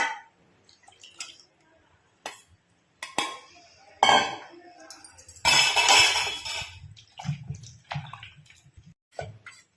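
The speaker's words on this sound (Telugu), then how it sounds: "ఇప్పుడు వంచిన వాటర్ కూడా దీంట్లోకి వేసుకుందాం." Soaking water poured into a pot in a few short splashy bursts, with clinks of metal cookware around it and a louder, longer pour near the middle.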